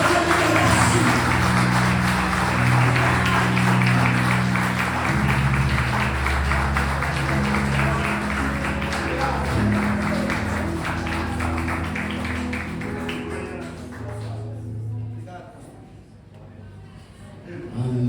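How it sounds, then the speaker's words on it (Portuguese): A church congregation applauds, a long, dense wash of clapping with musical tones underneath, fading toward the end before picking up again. "Aplaudam esse nome"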